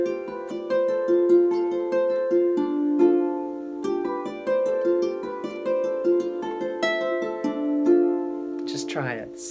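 Plucked triads ripple from a double strung harp in a steady, repeating pattern of short arpeggiated notes, close and fairly quiet, with a brief scrape near the end.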